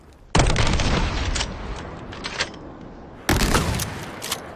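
A small two-shell shotgun fires in Resident Evil 4 Remake, two loud broadband blasts about three seconds apart, each with a sharp onset and a long decaying tail.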